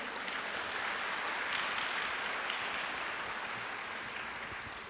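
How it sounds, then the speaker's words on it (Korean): Audience applause welcoming a physics professor at a university admissions briefing, a steady broadband wash of many hands clapping throughout, moderately loud and without talk. "여러분 박수로 맞아주십시오"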